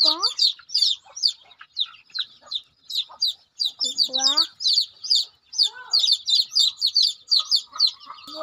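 Several chickens cluck and chirp in quick, repeated bursts, close and fairly loud, with a lower squawking call in the middle.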